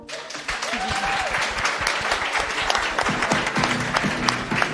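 A large crowd breaks into dense, steady applause, loud and continuous, with scattered sharper claps standing out from the mass.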